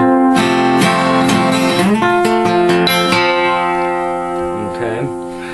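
A guitar plays the opening bar, with bright plucked and strummed notes ringing close up in a quick rhythmic figure that trails off into sustained tones.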